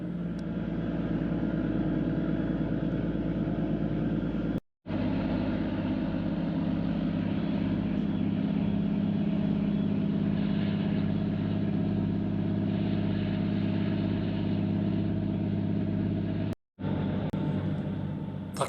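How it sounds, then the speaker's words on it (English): A ferry's engine exhaust stack gives a steady, loud rumble with a deep low drone throughout as the motors power up on Port Phillip Bay, broken by two brief cut-outs, with no one talking. "Just listen to the engine noise from the exhaust stack as the motors are powered up."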